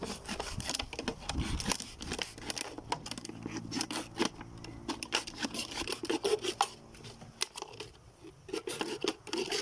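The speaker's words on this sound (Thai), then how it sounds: "เจาะขวดน้ำอัดลมนะฮะ เจาะไปเลย" Close-up crinkling and scraping of a plastic soda bottle being pierced, irregular crackles and rasps repeating over several seconds, with no talking.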